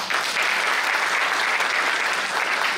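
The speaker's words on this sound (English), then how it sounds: "Give a big clap, please." Full, steady applause from a large university auditorium audience, dense and continuous clapping at constant loudness throughout with no speech.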